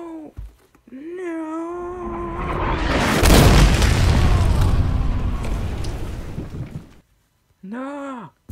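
A nuclear bomb made from a shoe goes off in a video game: a loud, rumbling boom swells and lingers for several seconds, with a voice crying out before and after it.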